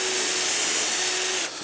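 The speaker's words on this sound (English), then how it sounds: "So I'm now going to drill the remaining holes here." Power drill boring holes through a UJK Parf drill guide into a workpiece, a steady, loud, close whine held for about a second and a half before it cuts off abruptly.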